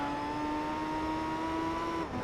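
A small car's engine in Gran Turismo 3, driven on the Seattle City circuit, holds a steady high-pitched whine at near-constant revs, then eases slightly at the end.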